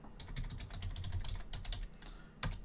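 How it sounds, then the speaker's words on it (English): Fast typing on a computer keyboard, a close run of light rapid key clicks, with a firmer final key press after a short pause. "So if you go into Google and type in"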